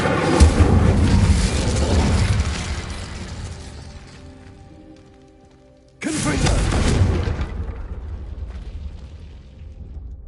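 Incendio fire spell cast in a Hogwarts video game: a loud whooshing burst of flame that roars and fades over several seconds, then a second sudden fiery blast that slowly dies away.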